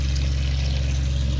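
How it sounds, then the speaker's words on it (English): Water pours steadily into a pot of uncooked brown rice, a short, even, quiet splashing rush with no talking. "let me add water into it."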